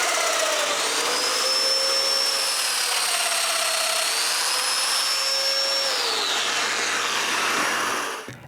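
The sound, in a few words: drilling mortises in wood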